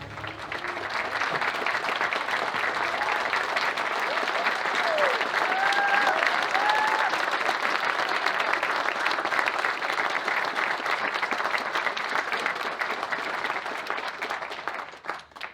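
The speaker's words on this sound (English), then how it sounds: "Please join me in a big Santa Barbara County round of applause for our graduates here today." A crowd at a graduation ceremony claps steadily for the graduates. The applause is loud and sustained for about fifteen seconds, with a few faint whoops, and fades at the end.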